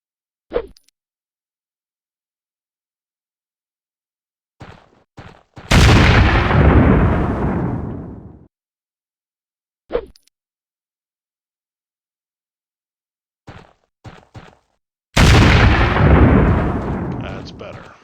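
Grenade blasts in a British commando training game with an H&D add-on: two loud, close explosions that roar and slowly decay, each preceded by short clicks and thuds from handling and tossing the grenade, with silence between.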